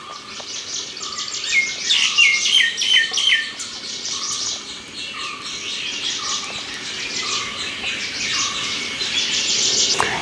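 Small birds chirp and tweet near their nest in a bamboo clump on a summer morning, a busy, continuous twittering of quick high calls from close by with no voices.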